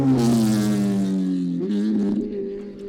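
Lightweight 540 kg Cup race car with a stainless steel exhaust, revving loudly up close as a harsh, buzzing engine note that sags in pitch, then climbs again before easing off.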